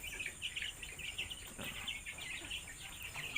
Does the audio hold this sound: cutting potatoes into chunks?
no